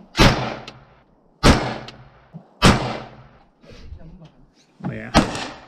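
A Savage B22 Precision rifle fires at an outdoor gun range, giving about four sharp, evenly spaced cracks that each fade quickly, with softer handling sounds in the gaps.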